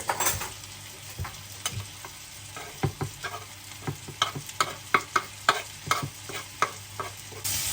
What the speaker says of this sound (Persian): و همراه شیپیدم یه مقدار سرخش میکنم